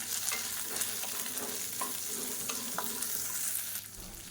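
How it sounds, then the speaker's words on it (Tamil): Raw peanuts dry-roasting in a pan with garlic cloves and small pieces of ginger: a steady close hiss and crackle, with faint light scrapes and ticks from the nuts shifting, even in level throughout. "இது வந்து வறுக்காத வேர்க்கடலை, அதனால் இதோடு சேர்த்து நான் வறுத்துக்கிறேன்"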